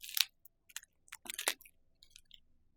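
Crusty toasted sub bread for a Sloppy Joe sandwich being cut with a knife, giving a handful of short, sharp crunching crackles close up, with a louder burst at the start and quieter crisp snaps trailing off.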